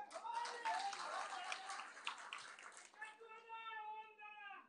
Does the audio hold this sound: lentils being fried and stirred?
no